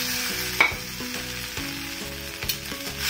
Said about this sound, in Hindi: इनको हम अच्छे से भूनेंगे ताकि इसका मॉइस्चर बिल्कुल निकल जाए